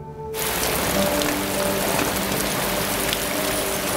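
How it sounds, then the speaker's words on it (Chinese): Heavy rain pours at night, starting abruptly and then holding as a dense, loud, continuous downpour that sounds close by. "下这么大雨"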